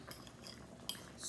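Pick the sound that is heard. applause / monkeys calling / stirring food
stirring food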